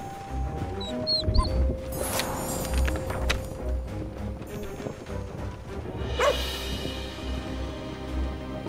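A cartoon dog in the cooking video game Overcooked 2 gives a few short yips and whimpers over steady kitchen game sounds and clattering effects, moderately loud and up front.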